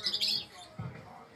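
Harsh, high squawks from lovebirds in the first half second, then fainter chatter and background noise.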